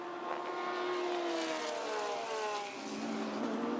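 GT race cars at Chang circuit scream down the long straight in slipstream, engine notes sliding downward as they pass, one strained roar blending into the next at steady loudness.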